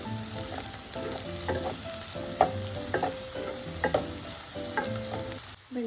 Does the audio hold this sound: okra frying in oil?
yes